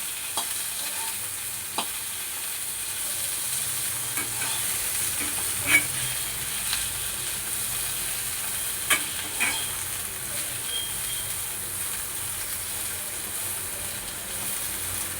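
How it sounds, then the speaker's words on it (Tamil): Cleaned banana flower sautéing in a pan over a low flame, a soft continuous sizzle with occasional scrapes and taps of a stirring spoon, close and gentle, with no voices. "இதில் ஆஞ்சு சுத்தம் பண்ணி வச்ச வாழைப்பூ சேர்த்து ஒரு வதக்கிக்கலாம்."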